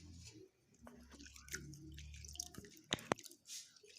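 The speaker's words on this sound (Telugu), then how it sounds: "ఇలా వాటర్లో వేసి బాగా కడిగి" Cut nalleru (veldt grape stem) pieces being washed by hand in a bowl of water, quiet sloshing and scattered drips with a couple of sharp splashy clicks near the end, close and soft.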